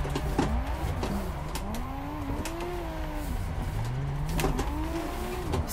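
A Nissan Skyline R34 drifts sideways on a warm track, its engine droning and wailing with rising and falling revs, steady and fairly loud with occasional sharp pops.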